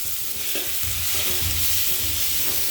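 Onion and tomato sizzle steadily in a pan for radish thokku while a spoon stirs through them now and then, with no voices.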